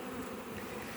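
A dense, steady hum of many Buckfast honeybees buzzing close by, continuous and even throughout.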